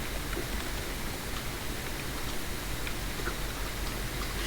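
Rain falling in a video game, a steady, even hiss of drops with faint scattered ticks, continuous and fairly soft throughout, with no voices.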